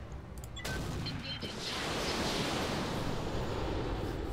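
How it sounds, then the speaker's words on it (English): Weapons fire batters a building in the mech game Roguetech, a dense, sustained roar of shots and blasts that swells and stays loud with no pause. "And we're gonna shoot this building"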